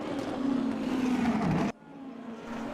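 Race car engines during the last lap of a race, a loud steady roar that cuts off abruptly and then returns more faintly as another car continues.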